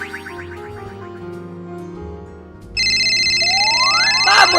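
Loud, steady electronic phone ringtone bursts in after a stretch of background music, sustained and bright with a rising chirp near the end.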